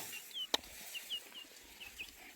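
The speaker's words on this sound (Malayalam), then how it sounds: "പുതിയതായിട്ട് വാങ്ങിയ 3 കോഴിക്കുഞ്ഞുങ്ങളാണ് കേട്ടോ" Three newly bought chicks cheep in short, thin, high peeps scattered across a quiet backdrop, faint and fairly close, with a sharp knock near the start.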